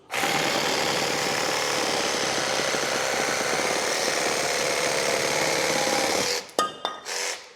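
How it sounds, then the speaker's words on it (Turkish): A cordless reciprocating saw buzzes continuously at full speed for several seconds, then cuts off into a few brief clattering knocks. "Tilki kuyruğu testere ister kurban kes, ister kemik kes"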